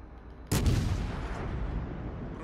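An Italian tier 4 cruiser, the Montecuccoli, fires its main guns in World of Warships. One sudden loud naval gun blast sounds, then a long rumbling roar that slowly fades, with no speech.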